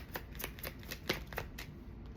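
Tarot cards are shuffled close up in a quick run of soft riffling bursts over about two seconds, with no one speaking.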